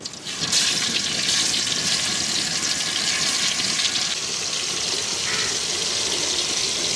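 Marinated tuna drops into hot oil in a village kitchen, setting off a loud, dense, rushing sizzle that starts suddenly and holds steady close by.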